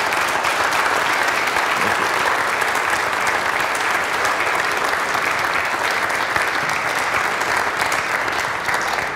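A room full of people applauds steadily at a church worship service, a dense, even wash of clapping that continues throughout without fading.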